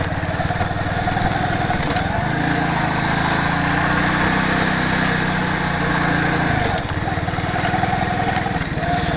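An Alpha moped engine runs in gear with a loud, close, buzzing drone that rises in revs and then falls back in a sustained, steady run.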